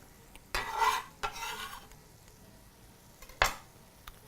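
Malabari prawn curry stirred in a pan, giving a few scraping, rustling bursts with a louder final scrape and a low sizzle between them.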